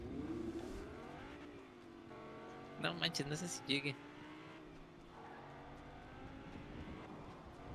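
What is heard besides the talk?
cars driving in the video game Fortnite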